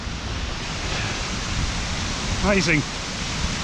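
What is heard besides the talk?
Skógafoss waterfall rushing, Iceland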